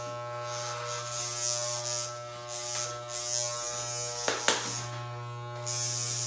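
Hair clippers trimming long hair edges give a steady close electric buzz with a strong hum, swelling slightly as the blades pass through hair, with a couple of brief clicks near the end.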